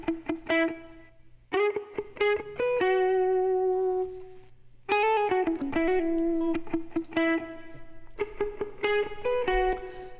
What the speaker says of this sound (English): And without the Valhalla Room, it just sounds like this.